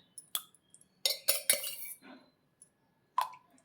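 Metal spoon clinking against a vessel while curd is stirred into warm milk, a few sharp taps and scraping clinks in short bursts with quiet gaps, close and fairly soft.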